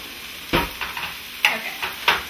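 Soupy beans for vegan fajitas stirred with a big spoon in a pot, giving three wet scraping, sloshing strokes with softer stirring between them, close and moderately loud with no talking.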